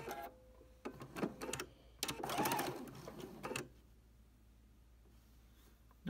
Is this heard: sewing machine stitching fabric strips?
yes